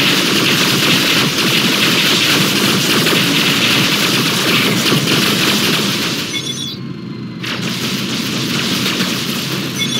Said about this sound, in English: Scatter turret.